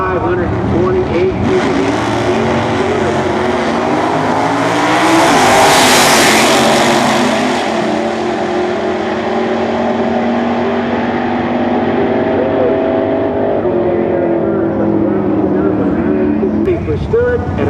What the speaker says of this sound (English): Out of Azusa, California, the safest car built in 1935, a DeSoto Airflow.